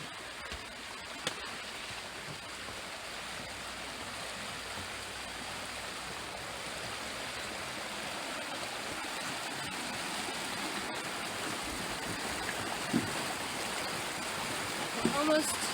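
Steady water rushing along a hiking trail in Maine, a broad continuous wash of flowing stream noise that stays close and fairly loud throughout, with a few faint knocks or handling sounds near the end.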